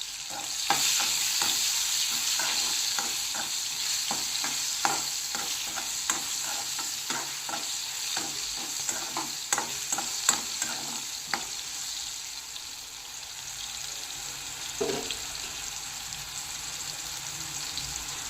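Long brinjal strips sizzle in hot oil with salt in a pan, with a steady fry under a quick run of sharp spatula scrapes and taps that ease off toward the end.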